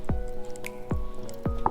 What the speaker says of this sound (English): Little splash of ketchup.